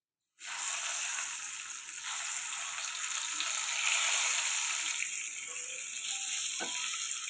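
Boiled eggs fry in hot oil with turmeric, giving a steady, close sizzle that swells and settles for several seconds, with a brief stir near the end and no talk.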